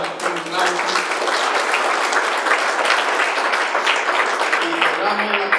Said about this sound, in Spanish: Un aplauso de nuevo para nuestro conferencista internacional de fondo